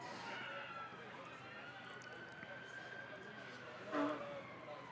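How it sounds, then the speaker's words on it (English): An ambulance siren wails faintly in the distance outside a cricket ground during a T20 match, its rising and falling tone drifting under a commentator's steady talk. "Maybe the ambulance is coming to take care of the ambulance"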